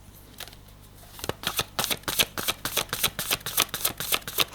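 Tarot cards being shuffled for a reading, quiet at first, then a rapid run of crisp riffling snaps repeating steadily and close up.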